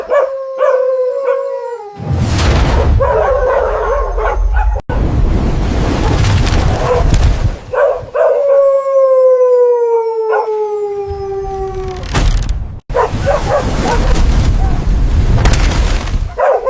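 Dogs howl long and loud, their wavering cries drawn out and falling in pitch. Between the howls come harsh bursts of barking and booming noise, all close and intense.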